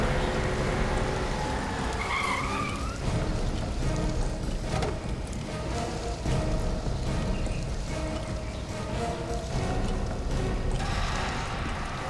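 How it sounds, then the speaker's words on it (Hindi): A car pulls up through heavy rain, its engine and tyres on the wet road swelling loud and near against a steady hiss of rainfall. "कोई गाड़ी आई है।"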